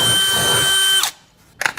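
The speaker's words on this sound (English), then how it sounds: "It pains me to drill through this bass boat paint" A power drill bores through a go-kart body coated in glossy bass boat paint, a loud close whine lasting about a second, then stopping, followed by a couple of short bursts.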